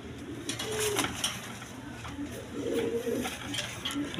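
Big-sized red-geared pigeons, males that call constantly, coo in low repeated rolling phrases at a seller's loft, moderately near, with a few soft bird chirps and faint background clatter.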